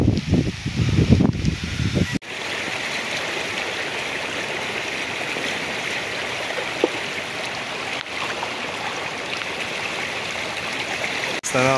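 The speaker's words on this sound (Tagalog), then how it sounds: "Na naman po ng ulan, no? Lakas rin ng hangin." Heavy rain and strong wind during Typhoon Tino, a dense continuous roaring hiss of downpour and gusts that runs steadily for most of the stretch after a brief, rougher, louder opening.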